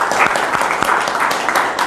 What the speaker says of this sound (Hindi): तो इनका एक बार तालियों के साथ अभिनंदन।